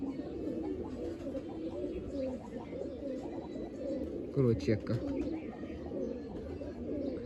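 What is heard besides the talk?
pigeons cooing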